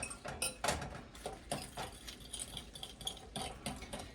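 Quiche filling of spinach and mushroom mixed in a bowl, with quiet, irregular clinks and scrapes of a utensil against the bowl in short rapid strokes.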